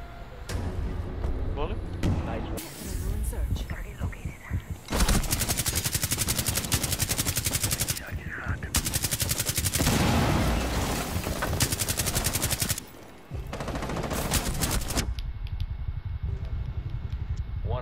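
Dense automatic gunfire rattles in long, loud, rapid bursts with short pauses between them in the tactical shooter Rainbow Six Siege, close and overpowering, over a brief background rumble.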